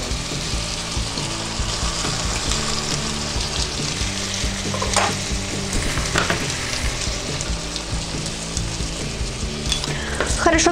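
Chili con carne with beans, corn and tomatoes sizzles and bubbles in a pan while being stirred, a steady close frying hiss with scraping and soft clinks of the spoon throughout.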